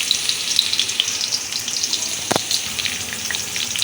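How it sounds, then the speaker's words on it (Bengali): Onions fry in hot oil in a wok for prawn korma, a steady close crackling sizzle with a brief clank partway through and no talking. "পেঁয়াজ দিয়ে দিলাম, ভালো করে বাদামি করে ভেজে নিব।"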